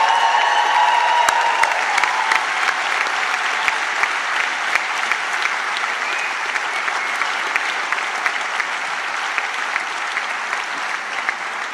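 The crowd at the 2017-18 Clipper Round the World Yacht Race crew allocation welcomes skipper Nikki Henderson with sustained, loud applause and scattered distinct claps, a few cheers and a voice heard briefly early on.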